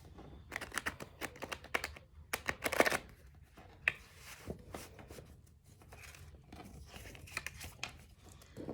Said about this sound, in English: I just want to shuffle it a few times because there's a lot of cards in here